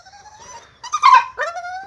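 A young pitbull puppy whimpers and whines close by, high thin cries rising into a louder squeaky yelp and then a final drawn-out whine, with no talk.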